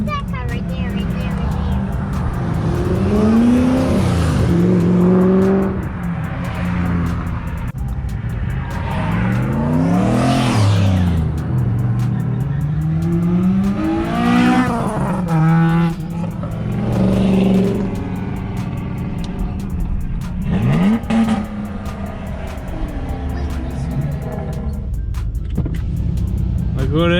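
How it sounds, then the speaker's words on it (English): Cars rev and accelerate as they pull out of a car show parking lot, with repeated rising engine surges, some tire squeal and passes close by, mixed with people talking and cheering. "We got a lineup out here waiting to watch cars leave the parking lot."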